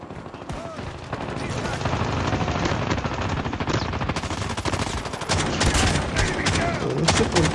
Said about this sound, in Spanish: Escopeta, boludo.